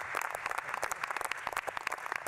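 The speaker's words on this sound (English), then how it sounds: "How about a round of applause for Secretary Chow?" Audience applause at a National Space Council meeting, a dense, steady patter of many hands clapping indoors at moderate level, filling the whole moment without speech.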